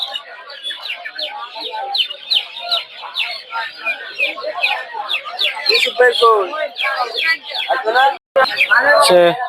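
Many broiler chickens cluck and squawk together in a busy crowd at a poultry market in Narsingdi, Bangladesh, dense overlapping calls with voices talking underneath throughout.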